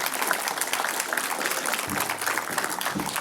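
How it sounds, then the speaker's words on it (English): Conference audience applauding apprentices, a dense, steady wash of many hands clapping close and loud for a few seconds, with a few low thumps underneath. "A round of applause to all our apprentices who've been role models."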